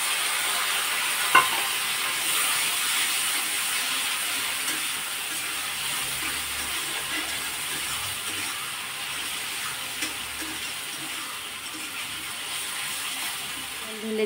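Ground spice paste frying with potatoes and onions in a pan, a continuous low sizzle with a sharp clink early on and faint stirring, close and steady, with no voices.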